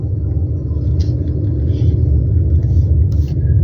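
A car driving through a winter storm, with a loud, steady low road and engine rumble from inside the cabin and faint higher sounds above it.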